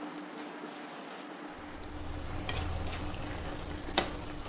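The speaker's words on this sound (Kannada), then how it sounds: "ಚೆನ್ನಾಗಿ ಕುದೀತಾ ಇದೆ" Onion curry simmering in a pan, a soft steady bubbling close by with a faint clink near the end.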